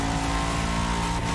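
A Bugatti Veyron engine in The Crew Motorfest holds a steady, loud droning rev, sustained and unbroken with no speech over it.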